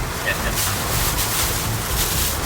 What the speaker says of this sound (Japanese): 風が危ないね